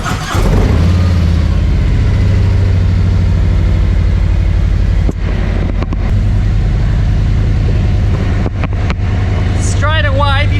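A 2022 Harley-Davidson Road Glide ST with in-house GHD mufflers sets off, its engine a steady, loud low rumble that holds throughout, with a brief dip midway and wind buffeting, and voices talking faintly near the end.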